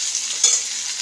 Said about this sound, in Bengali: হালকা হাতে আমি ভেজবো, বেশি রেড করবো না, আস্তে করেই ভাজছি